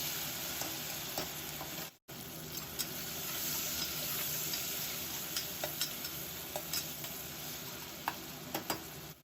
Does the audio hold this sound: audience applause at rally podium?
no